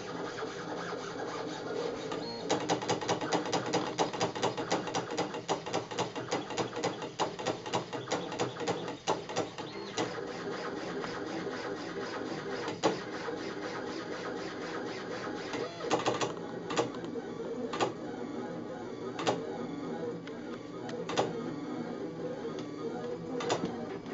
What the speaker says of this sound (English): these sound like they are stepper motors, not servos